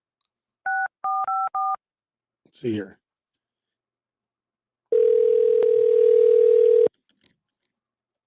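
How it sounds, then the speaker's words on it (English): A telephone is dialed with a quick run of DTMF keypad beeps, followed by a steady electronic dial tone lasting about two seconds; someone speaks briefly between them. "give me a minute to dial the phone"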